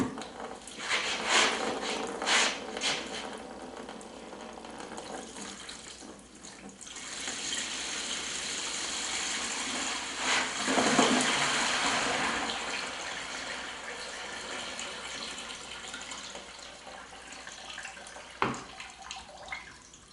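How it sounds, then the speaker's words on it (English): Rust removal solution poured out of a container during a drill press restoration, a steady liquid stream with splashing that rises and falls over about twenty seconds, fairly close, with brief handling knocks. "Bear with me while I pour this out."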